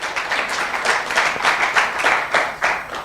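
Conference attendees at an agricultural policy stakeholder session applaud a speaker, a moderate, somewhat sparse patter of clapping with rhythmic surges, no talk.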